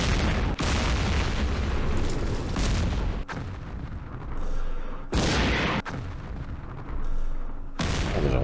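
Tank cannons firing in the Campaign Series Middle East video game, several heavy booming blasts in succession, each a loud broadband burst with rumbling decay, separated by short lulls.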